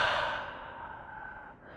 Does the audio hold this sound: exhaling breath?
yes